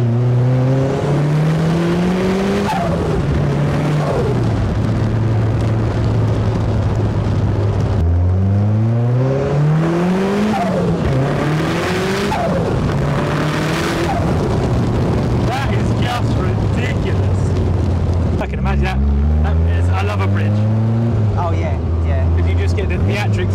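A Mazda-engined kit car revs hard and repeatedly, the engine note climbing and falling in several loud surges with a raspy mechanical roar, close and dominant, with some talk mixed in.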